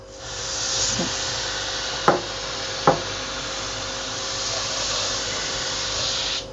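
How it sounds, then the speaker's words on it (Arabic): A Chinese degreaser cleaner is sprayed onto a fan as a continuous loud hiss, with two sharp clicks partway through, close and without talk. "ويلا بينا بقى نرش المروحة."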